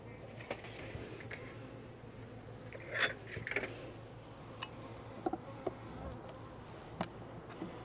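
Honeybees buzz around the top of a hive in an apiary, with a faint steady drone and occasional individual bees passing close, plus a few soft clicks and ticks.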